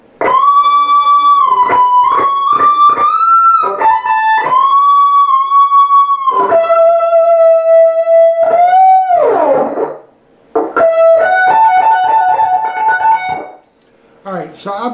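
Heavily distorted electric guitar plays the opening measure of the outro solo, singing sustained lead notes with quick repeated picking and bends. It is loud and close, with no talking, and a brief pause comes near the end.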